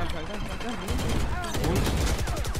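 Sustained gunfire in the video game Valorant, rapid repeated shots rattling throughout, loud and close, with a voice speaking over parts of it.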